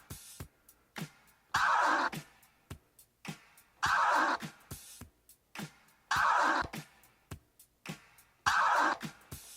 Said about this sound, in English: the third scratch we're gonna learn is going to be the forward scratch